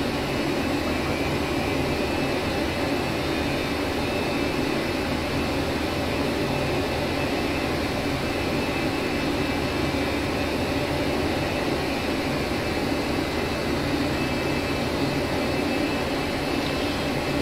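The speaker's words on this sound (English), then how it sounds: "I'm starting my takeoff roll" An aircraft engine roars steadily through the takeoff roll, a loud, unbroken broadband drone with a faint whining tone, heard from inside the cockpit.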